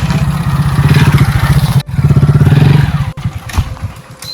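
A motorcycle engine runs close by with a throbbing, pulsing rumble, rising and falling in bursts with a couple of brief cutouts, loud and alone.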